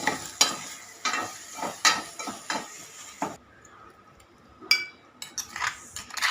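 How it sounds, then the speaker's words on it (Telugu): Potatoes frying in oil in a pan, a spatula scraping and stirring in repeated strokes over a soft sizzle, with a short quiet pause before the stirring resumes. "చక్కగా వేయించుకుంటుండే బంగాళదుంప"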